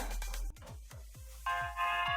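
NCS electronic music playing from a mobile phone, with bass thumps repeating about every half second and a bright synth line entering partway through.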